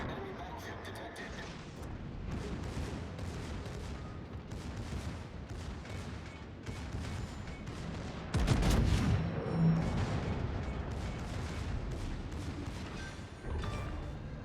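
Naval guns fire in the World of Warships video game, with a German battleship engaging destroyers. Repeated booming salvos and explosions sound under continuous game noise, and the loudest blast comes near the middle.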